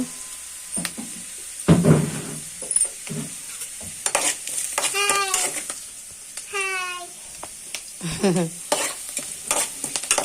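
Vegetables fry in a pan with salt and turmeric, with steady sizzling and intermittent stirring scrapes up close, while a voice speaks briefly in the background.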